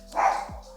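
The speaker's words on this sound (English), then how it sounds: "Almost got through the whole video without him barking" A single short bark from a small pet dog sounds at moderate loudness in a quiet indoor room during a GI Joe mail call, alone with no speech.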